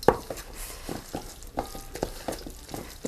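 Kimchi seasoning paste of garlic, ginger and salted shrimp is stirred in a bowl, making soft, wet, squelching strokes in an irregular rhythm, close and quiet, with no voice.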